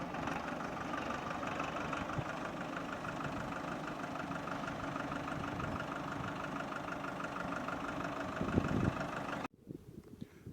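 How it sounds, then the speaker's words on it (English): A farm tractor engine runs steadily while preparing land for crops, a constant mid-distance rumble with a faint knocking texture that cuts off abruptly near the end. "there's a tractor which is preparing the land for crops"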